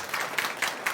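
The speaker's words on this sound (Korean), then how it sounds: "우리 안재청 우리 평가사님한테 큰 박수 한번 쳐주죠" At a get-together of newly certified Korean crop loss adjusters, hands clap in four evenly spaced, fairly quiet bursts, a short rhythmic patter rather than a full round of applause.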